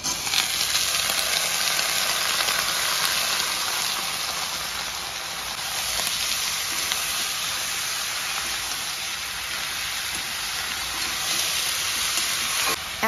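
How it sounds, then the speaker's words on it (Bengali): Potatoes, eggplant and pointed gourd frying in white oil, a steady close hiss of sizzling that holds evenly for the whole stretch with no talk. "পেঁয়াজ আর মরিচটা ভাজা হয়ে গেলে কিন্তু আমরা আলু, বেগুন আর পটলটা দিয়ে দেব"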